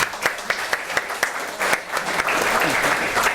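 An audience at an FCC talk in Hong Kong breaks into applause to welcome a speaker, a few distinct claps at first building into dense, steady clapping from a room-sized crowd.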